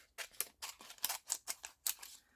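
Scissors snipping through a card to cut it in two, a quiet close series of about nine crisp, quick cuts in an uneven rhythm.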